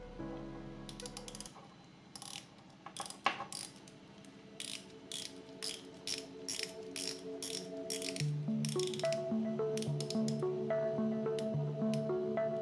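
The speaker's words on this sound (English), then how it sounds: "let me just try the bezel, because as you can see, it's perfectly aligned. But let's try the action." Militado BB58 dive watch bezel turned by hand, giving rapid, crisp ratcheting clicks at close range, in quick bursts with short pauses, then steadier clicking toward the end.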